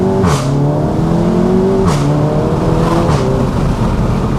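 SEAT Leon Cupra 300 hot hatch exhaust revs hard while accelerating through the gears on a damp road among trees, giving three rising pulls broken by quick shift blips, loud and close.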